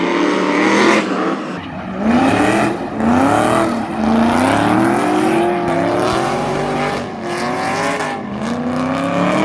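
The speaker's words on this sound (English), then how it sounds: "Just observe the 8 in the drift pattern that they do." Cars drift in a figure-eight pattern at an Emirates drift event, engines rising and falling in repeated revving sweeps with tire squeal, loud and continuous over about nine seconds.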